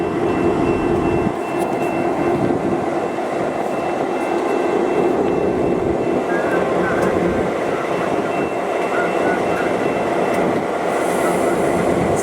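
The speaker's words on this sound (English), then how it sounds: "But here comes this nice old engine, old locomotive." A loud, steady rumble of an old diesel locomotive of the Ontario Southland Railway passing, continuing without pause, with a constant low drone and faint metallic squeals near the end.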